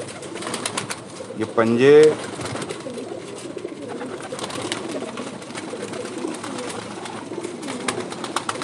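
Pigeon held in the hand giving a brief close coo early on, while someone talks throughout.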